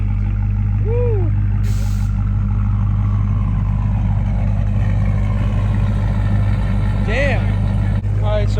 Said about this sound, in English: there's another exhaust right now you can hear